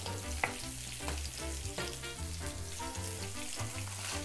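Breaded eggplant slices fry in oil in a pan, giving a continuous soft sizzle with occasional pops and the odd clink of a utensil.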